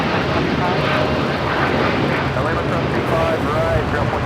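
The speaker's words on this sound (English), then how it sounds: "This is Air Tahiti Nui Flight 8 taking off to Paris on the 787-9 Dreamliner." An Air Tahiti Nui Boeing 787-9 Dreamliner takes off from Los Angeles International Airport, a loud, steady roar of jet engines that fills the whole clip, with a voice talking over it.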